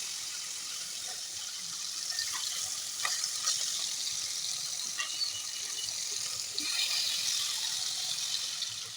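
Steady crackling sizzle of fish frying in hot oil, a continuous bright hiss with small pops throughout and no talking.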